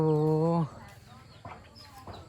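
A chicken in a traditional rural village in southern Laos gives a loud, close cluck at the start, then quieter farmyard sounds and faint rustling follow.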